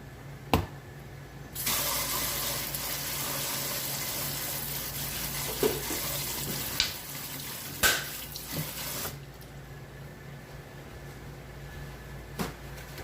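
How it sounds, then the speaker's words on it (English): Water gushes from a kitchen tap while hands are washed beneath it, a steady close rush lasting several seconds, framed by a few knocks and clunks before and after. "So wash my hands."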